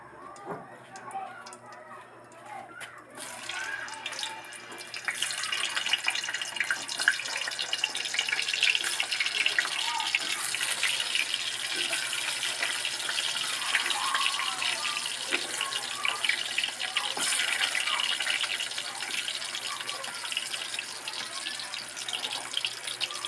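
Sweet potato (kamote) slices frying in oil in a pan, a quiet start giving way to a steady, moderately loud crackling sizzle that continues throughout, with occasional faint clicks.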